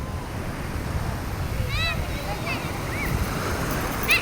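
Strong sea waves crash onto a shore as a steady, rushing roar with some wind noise, while a person talks nearby.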